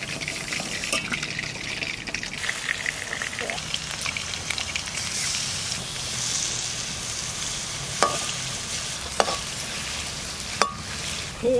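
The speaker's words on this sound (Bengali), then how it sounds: "আস্তে আস্তে জাল দিয়ে মাছটা ভেজে নিচ্ছি" Bokthuto sea fish fries slowly in hot oil with a bright, steady sizzle and occasional sharp pops and spatters, heard up close with faint background noise.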